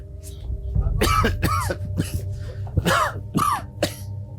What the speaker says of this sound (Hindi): इतना खांस रहे हो, दवाई नहीं ली क्या?